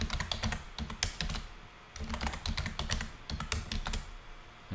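Rapid typing on a computer keyboard entering a password, with quick clusters of crisp, close key taps separated by short pauses.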